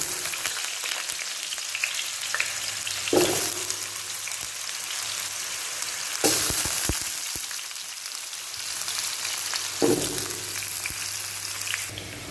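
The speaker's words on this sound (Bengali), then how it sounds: "আলুগুলো প্রথমে ভেজে নেব ভালোভাবে একটু।" Potatoes frying in hot oil in a frying pan for a Bengali prawn and pumpkin curry, a steady close crackling sizzle throughout with a few louder bursts as the pieces are stirred or shifted.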